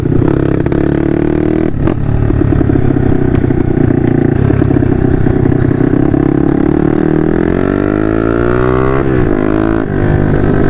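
Four-stroke 150 RXF dirt bikes ride the hills of the Meuse countryside, engines loud and close, revving up and down with rising and falling pitch, plus occasional clatter and scraping.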